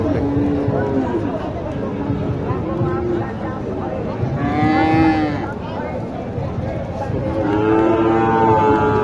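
Cattle, Sahiwal and Gir heifers, low repeatedly at a busy livestock market in Naogaon, several drawn-out moos, one louder near the middle, rising over constant crowd chatter and nearby talking.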